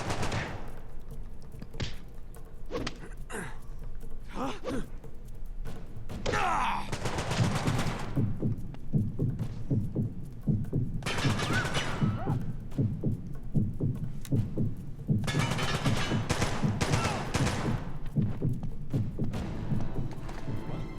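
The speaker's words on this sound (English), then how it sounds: "Got heavies with shotguns. I'm pinned down." Repeated shotgun blasts and gunfire bursts from the handheld game Uncharted: Golden Abyss, loud and dense over a tense game soundtrack, with several clustered volleys and brief lulls between them.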